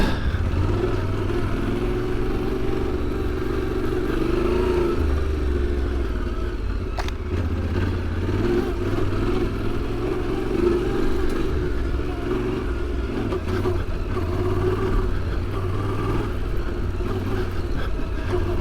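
A 2025 Yamaha Tenere 700 motorcycle rides through tight trees and up a rocky hill climb, its engine droning steadily and loudly throughout with small shifts in revs and scattered knocks from the terrain.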